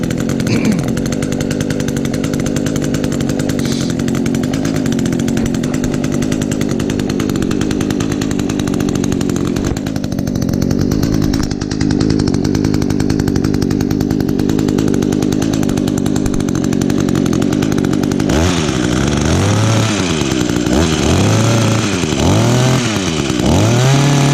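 Echo or Stihl small-engine outdoor power equipment, unused for a long while, runs loud and steady the whole time with a brief rise and falling dips in engine pitch near the end; no voices.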